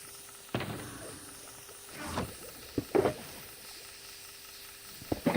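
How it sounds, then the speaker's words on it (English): Sizzling hisses in the Minecraft world come in several short bursts, separated by quiet stretches over faint background ambience, with a few sharper crackles toward the end. "A lot of sizzling going on."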